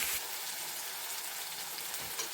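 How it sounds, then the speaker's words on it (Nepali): Food frying in a pan, a close, continuous crackling sizzle with light spatter, steady in level and heard alone. "अब एकछिन तक फ्राई गर्नु हो"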